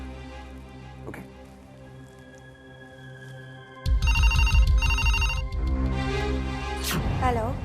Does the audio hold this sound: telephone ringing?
yes